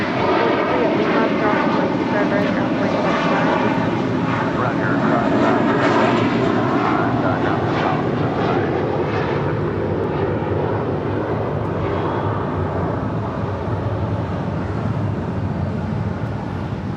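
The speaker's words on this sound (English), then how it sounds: "That flight taking off, that was American Airlines flight 2837 and an A321." An American Airlines A321 takes off at Los Angeles International Airport, a loud, steady jet engine roar holding for the whole stretch, broad and close, with a slight fade toward the end.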